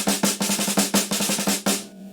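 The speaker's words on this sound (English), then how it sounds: "The next thing is the six-stroke roll." Snare drum playing a six-stroke roll in strict, straight style, a rapid run of sharp close strokes in repeating groups with accented hits, alone, ending with a brief decay.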